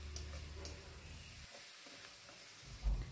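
Schezwan fried rice with vegetables and sauces is stirred in a hot pan, a quiet sizzle with soft scraping strokes of the spatula and a brief louder knock near the end.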